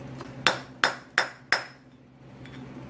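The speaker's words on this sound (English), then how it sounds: "then we're gonna just tap that in with a hammer" Hammer tapping a wheel bearing race into the hub of an AE86, four sharp metallic taps about a third of a second apart, close and crisp over a low background hum.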